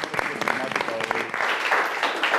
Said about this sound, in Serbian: O, pa ajmo aplauz